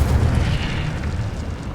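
An Incendio fire spell goes off in Hogwarts Legacy, a deep booming burst that opens loud and then rolls on into a low rumbling whoosh that fades slowly.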